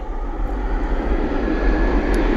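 A Jet2 Boeing 737 at Bristol Airport produces a steady, loud engine roar with a deep low rumble that holds constant throughout, with no voices.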